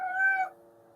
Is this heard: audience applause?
no